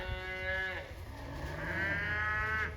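Cattle moo loudly and close by during a cold, blustery, snowy cattle drive, two long drawn-out calls one after the other over wind noise.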